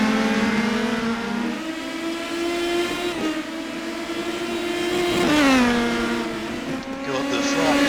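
A race car at the Nordschleife drives past with a steady high engine drone that rises and falls through gear changes, a clear pitch swoop near the middle marking a pass, loud and continuous throughout.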